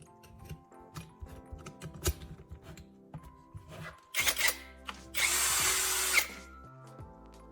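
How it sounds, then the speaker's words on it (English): A power drill bores a hole through a round wooden dowel clamped upright in a vise, with a loud steady whir of about a second after softer clicks and handling knocks. "I clamped it upright in a vise and drilled a straight hole through the center"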